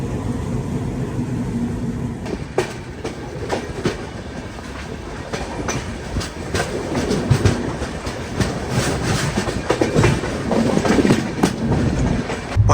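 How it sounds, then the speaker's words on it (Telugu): An Indian passenger train rolls along the rails on a long-distance route toward Delhi, with a continuous heavy rumble and repeated clickety-clack wheel beats that grow louder and busier toward the end. "ఇది ప్యాసింజర్ ట్రైన్."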